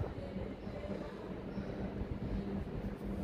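A train arriving at Roosendaal rumbles with a low, steady rolling drone and faint rattling of cars, heard from inside or close by at moderate loudness.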